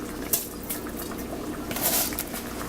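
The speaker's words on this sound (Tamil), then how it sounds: "இந்த மாதிரி நல்லா கொதிச்சிருச்சு, கொதிக்க ஆரம்பிச்சிருச்சு தண்ணி ஊற்றின உடனே" Water bubbles at a rolling boil in a pot for mutton biryani, a close, continuous burbling with small splashes and a brief swell near the end.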